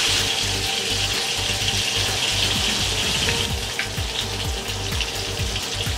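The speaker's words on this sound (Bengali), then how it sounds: "আর মাছ ভাজিতে একটু তেল ছিটবেই আসলে।" Rohu fish pieces frying in hot oil, a steady loud sizzle with sharp pops and spatters of oil throughout, close by and alone with no talk.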